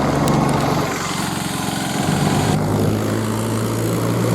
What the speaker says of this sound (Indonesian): Ada traktor ya teman-teman